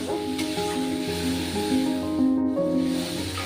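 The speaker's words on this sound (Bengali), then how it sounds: "মশলাটা কষিয়ে নেব।" Spice paste with turmeric sautéing in hot oil for a Bengali tengra fish curry, giving a continuous sputtering hiss beneath steady background music.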